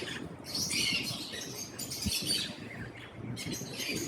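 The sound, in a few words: breeder pair of exhibition pet birds calling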